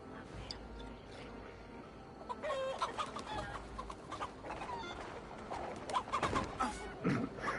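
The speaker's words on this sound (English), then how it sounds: "Getting chased by chickens." Chickens clucking in the video game Assassin's Creed Valhalla, a busy flock with repeated short clucks and squawks swelling and fading over a low background hum.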